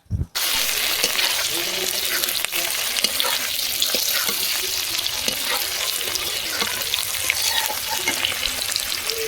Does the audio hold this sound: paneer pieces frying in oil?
yes